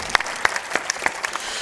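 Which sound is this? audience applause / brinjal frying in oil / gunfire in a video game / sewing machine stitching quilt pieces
audience applause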